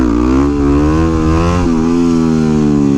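A 2009 Yamaha WR250X supermoto motorcycle engine holds a loud, close, steady mid-rev drone, its pitch sagging slightly midway and then recovering, with nothing else audible.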